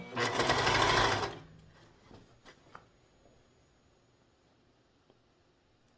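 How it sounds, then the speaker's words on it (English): A serger with its cutting blade engaged stitches around the top of a quilted Christmas stocking. It gives a loud, fast whirring burst of about a second, then falls to faint handling clicks and quiet. "put it under the presser foot and just sew around the top"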